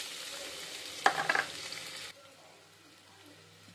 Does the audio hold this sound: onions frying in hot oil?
yes